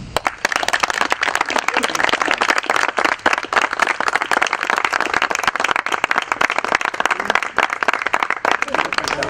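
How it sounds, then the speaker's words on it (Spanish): Sustained, dense applause for sailors at a memorial ceremony for the sinking of the Graf Spee, many hands clapping loudly and continuously from start to finish. "propiciarles un fuerte abrazo y un fuerte aplauso a esos marineros"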